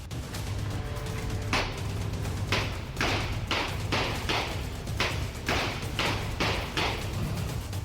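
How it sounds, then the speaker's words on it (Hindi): Pistol gunshots from news footage ring out as a run of about eight sharp bangs at uneven intervals, each with an echoing tail, over a steady low hum. "गनशॉट की ये गूंज बदमाशों के पिस्टल की है"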